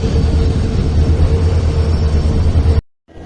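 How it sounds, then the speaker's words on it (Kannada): Passenger special train 06543 rumbling loudly at Nanjangud station's first platform between Mysuru and Chamarajanagar, a steady low heavy drone lasting nearly three seconds before cutting to brief near-silence. "ನೋಡ್ರಿ ನಂಜನಗೂಡ್ನ್ಯಾಗ ಟ್ರೈನ್ 1ನೇ ಪ್ಲಾಟ್ಫಾರ್ಮಿಗೆ ಬಂದೈತಿ."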